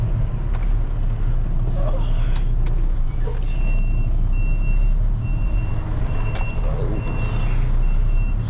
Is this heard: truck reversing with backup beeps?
yes